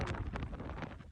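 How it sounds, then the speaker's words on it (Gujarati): Wind gusts over Banbha hill near Surat, rushing steadily and loudly across the microphone as a dense low roar with no voices. "બહુ મસ્ત પવન આવે."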